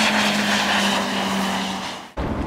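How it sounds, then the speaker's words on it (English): A propeller airplane drones overhead with a steady low hum and broad roar, loud and sustained, then the sound cuts off abruptly near the end. "Here comes a plane."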